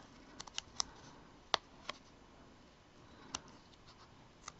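Craft foam being cut for homemade stamps, giving a series of faint, sharp little snips and clicks spaced irregularly over a quiet background.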